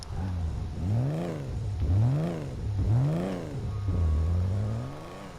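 The Benefactor Terrorbyte vehicle in GTA 5 gives off a loud, droning engine note that rises and falls in about four repeated revving sweeps, with a steady mechanical whir underneath.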